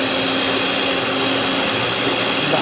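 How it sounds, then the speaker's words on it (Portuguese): A stand mixer beats warm choux pastry dough in its bowl, giving a loud, steady motor whir with a constant hum and no break, heard alone for the whole stretch. "aqui eu coloquei na batedeira a massa"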